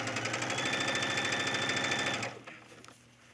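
Sewing machine gathering a tunic collar, a loud continuous rapid mechanical whir for about two seconds that stops abruptly, followed by faint handling sounds.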